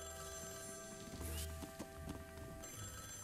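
A ringing telephone in the video game Luigi's Mansion 3, faint repeated bell tones mixed with spooky background music and a few clattering effects, with no voices.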